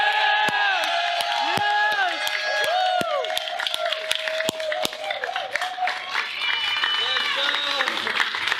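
A large crowd at a live event cheers and whoops loudly, with scattered clapping and shouts, while an amplified voice with a strong echo carries over the top.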